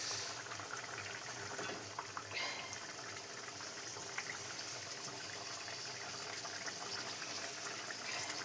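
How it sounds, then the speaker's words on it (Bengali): Fish curry gravy bubbling in a cooking pot, a soft, steady simmering hiss with faint popping, continuous and fairly quiet. "তো আমার ঝোলটা এখন ফুটে গেছে।"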